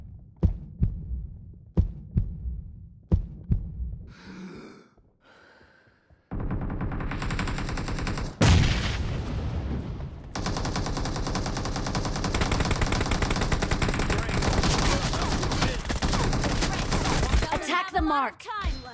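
Gunfire in the battle royale game BGMI during a team deathmatch opens with a few sharp, separate shots and then breaks into long, loud bursts of sustained automatic fire with little pause between them.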